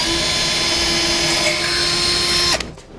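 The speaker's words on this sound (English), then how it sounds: "Take a small drill bit here to make a pilot hole" A small bit drills a pilot hole for self-tapping screws while a base plate kit is fitted to a 2013 Nissan Frontier. A steady, close, high-pitched whine runs for about two and a half seconds, then stops abruptly.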